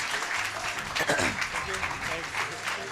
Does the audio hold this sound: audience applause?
yes